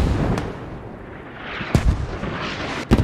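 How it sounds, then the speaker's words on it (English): Friendly mortar shells landing in the military shooter game Squad, a couple of sharp distant blasts with rumbling impacts over a steady low battlefield roar. "Friendly mortars coming down"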